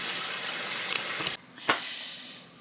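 Tap water gushes steadily into a sink as garden cabbage and broccoli are washed, then cuts off sharply, followed by a single splash and a quiet drip-filled room.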